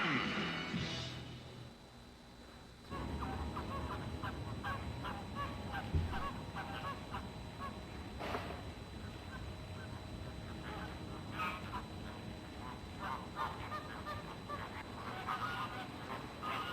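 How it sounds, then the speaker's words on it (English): Squawking, honking bird calls that resemble geese or ducks, played from the San Diego Zoo bird sampler on a SEGA CD, with dense overlapping calls continuing at steady loudness throughout. "Oh yes, a bird sampler."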